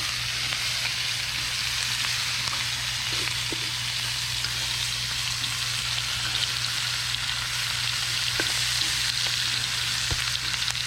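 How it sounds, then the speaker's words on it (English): A vegetable and parsley mixture fries outdoors while being stirred, a loud, even crackling sizzle running throughout with occasional soft utensil knocks against the pan. "I'm going to give this a stir."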